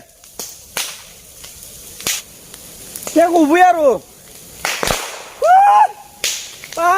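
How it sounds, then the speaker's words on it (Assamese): Sharp, sudden bangs crack out one by one at irregular intervals, loud and close, with excited voices talking between the blasts. "ফটকা মাৰে"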